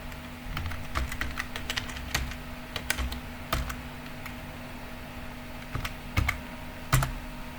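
A password typed on a computer keyboard, quiet irregular clicks of individual keys in short bursts with pauses between them, over a faint steady hum with no talking.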